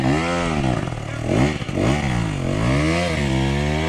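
A Beta X Trainer 300 enduro dirt bike climbs a hill on a Texas trail ride. Its two-stroke engine is loud and close, revving up and down in repeated surging swells as the rider works the clutch.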